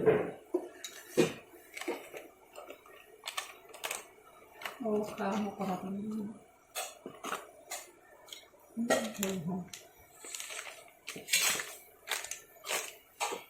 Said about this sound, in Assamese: এতিয়া মই মছলাখিনি ভালদৰে লৰাই দিছোঁ।